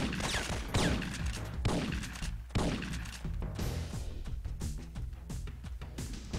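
Gunfire in the Syphon Filter video game crackles in rapid bursts, loud and close, with sharp repeated shots and thumping impacts over several seconds, no talk.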